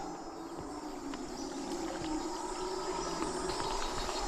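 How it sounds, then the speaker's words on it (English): Howler monkeys howling somewhere unseen near a rainforest creek in Suriname, a low, moaning drawn-out call rising and falling at a distance over soft water and ambient noise. "These are the Howler Monkeys."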